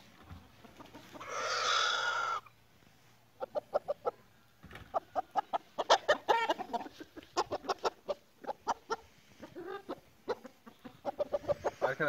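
Indian game rooster clucking in a garden cage: a rapid series of short, sharp clucks in quick bursts, fairly close and clear, with a brief hiss of noise near the start.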